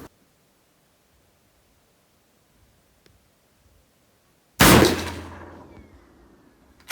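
A single sharp shot from a Marlin 94 lever-action rifle in .357 Magnum cracks loudly after several seconds of near silence, then its echo rolls off and fades over the next couple of seconds.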